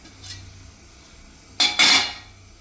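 Sweet potato mash dropped into a pot of hot milk for sweet potato kheer, a brief scrape and clatter of a spoon against the pot at the end, fairly close, with no talking.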